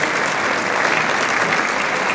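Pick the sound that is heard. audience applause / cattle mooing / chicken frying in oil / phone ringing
audience applause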